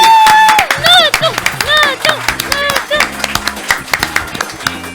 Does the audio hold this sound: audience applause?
yes